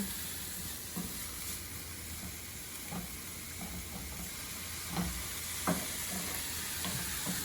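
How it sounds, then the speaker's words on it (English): Meat and soy sauce sizzling steadily in a frying pan, with a constant hiss and occasional scraping knocks of a utensil stirring, close and continuous. "adding our meat in, middle of the pan, adding our soy sauce. Just gonna get that stirred in"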